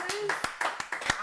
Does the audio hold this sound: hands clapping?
yes